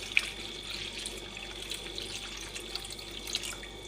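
Water pours from a tap-like stream into a plastic plate holding mint leaves and hibiscus flowers, a soft, steady trickle and splash heard up close and quietly, with no talking.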